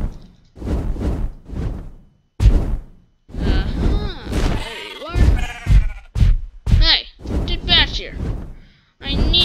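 Minecraft sheep bleat several times in short, wavering cries during gameplay, mixed with whooshing and thumping game effects at close, moderate loudness.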